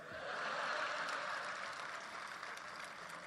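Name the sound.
audience applause at a poetry event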